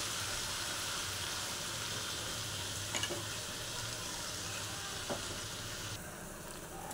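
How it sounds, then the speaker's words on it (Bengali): Pieces of chicken fry in a kadai with a continuous, even sizzle while being stirred from the bottom, with a couple of faint clinks, and the hiss softens slightly near the end. No voices are heard. "চিকেনগুলো কড়াইয়ে দিয়ে আরও একবার তলা থেকে ভালোভাবে নেড়ে দিলাম।"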